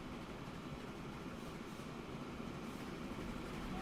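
A train from the Transport Fever 2 strategy game rumbles along at a faint, steady level, a continuous low rail drone with no voices over it.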